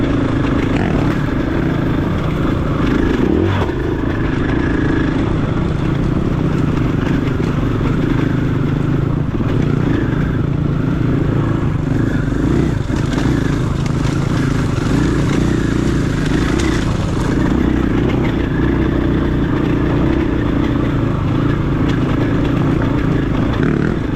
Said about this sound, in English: all I can hear is his 350's exhaust over this.